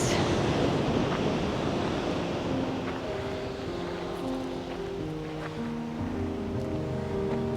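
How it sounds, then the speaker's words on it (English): Ocean waves wash along the Lanzarote coastline in a steady, loud, broadband roar mixed with wind buffeting, while faint tonal music-like lines drift underneath with no talk. "the waves."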